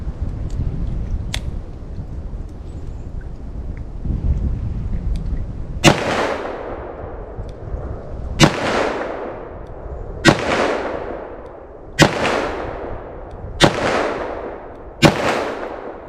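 .357 Magnum handgun shots ring out at an outdoor range: six sharp, loud reports spaced a couple of seconds apart, each with a ringing echo tail, after a stretch of wind and background noise.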